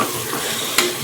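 Marinated paneer is stirred into a frying onion-tomato paste, with a loud continuous sizzle and a sharp scrape of the spoon near the end, close by and without talk.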